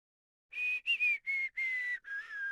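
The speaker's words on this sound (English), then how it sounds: "Makoto whistles and plays dumb." Makoto in the fighting game BlazBlue: Calamity Trigger whistles a short, clear tune of five quick notes, close and alone after a brief silence.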